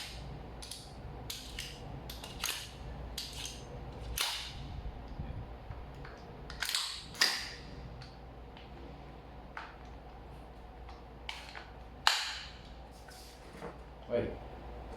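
Redmantoys BCM MCMR MK2 airsoft gas blowback gun firing single sharp cracks at irregular intervals, several spaced shots over a low background hum, with mechanical clicks between them.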